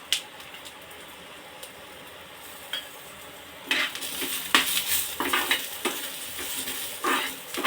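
Ginger pieces and two or three green chilies being stir-fried for a masala bhaji gravy, with a quiet first half, then scraping spatula strokes and clinks against the pan over a soft sizzle, close by.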